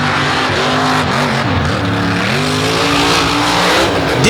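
A race car at an all-star race in Naples roars loudly as the driver gets back on the throttle, the engine pitch rising and falling through gear changes in a continuous, close, high-revving scream with no talk.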